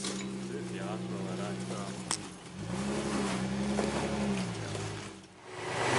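A 4x4 engine rumbles and revs at low speed while rock crawling at Waterworks, with two swelling revs separated by a brief dip, steady and fairly close. Voices can be heard nearby.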